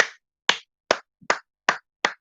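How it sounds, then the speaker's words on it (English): Six sharp, separate hand claps, evenly spaced and close, in a protest setting with no talking over them. "To all those protesters, this clap is for you."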